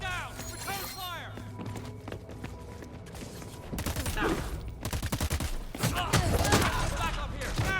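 Video game Crackdown 3 firefight with bursts of gunfire, rapid cracking volleys that thicken and grow louder in the second half, mixed with game effects and spoken voices.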